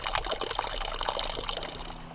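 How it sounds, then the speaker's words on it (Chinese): A waterfall along Taiwan's Shuizhaixia old trail rushes nearby, a dense, steady splashing wash of water with no voices. "这里就是瀑布了哈"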